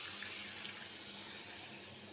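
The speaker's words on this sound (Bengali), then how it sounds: "এখন আমি পানি দিয়ে দিব।" Water pours steadily into a pot of fried chickpea dal and chicken, a close, even rushing splash with no talk.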